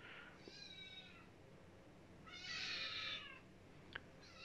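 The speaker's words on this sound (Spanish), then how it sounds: "Gato, está aquí." A cat meows several times, a short call followed by a longer, louder, strained meow, close by in a quiet room, with a brief click near the end.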